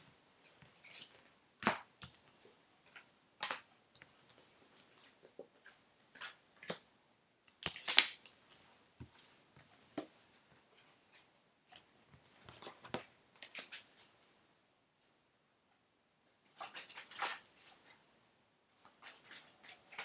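Soft, intermittent rustling and flicking of tarot cards being shuffled close by, in irregular bursts with quiet gaps between.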